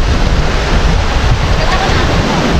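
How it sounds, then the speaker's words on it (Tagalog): Strong ocean surf pounds a surfing beach in San Juan, La Union, a loud, continuous broadband roar of breaking waves close by, with a faint voice briefly in the mix. "Lalakas ng alon"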